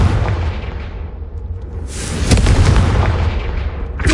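A Confringo spell explosion from the Hogwarts Legacy video game: a loud, heavy boom with a roaring, rumbling tail, then a second blast swelling and a fresh burst at the very end, with no talking.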